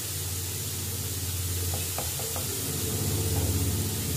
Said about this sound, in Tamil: இதெல்லாம் போட்டு நல்லா ஃப்ரை பண்ணணும்.